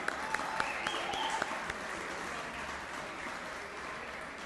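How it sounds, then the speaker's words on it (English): A faint, distant round of audience applause for the band at a university hall of fame induction, a soft continuous patter of clapping with a few crisp claps early on. "Let's give a round of applause for the good band."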